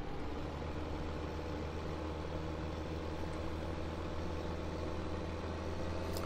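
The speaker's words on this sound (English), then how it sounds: "Doesn't struggle even up the hill with a load on this tractor." A tractor engine in Farming Simulator 15 drones steadily and continuously, a low, even hum that holds throughout with no voices over it.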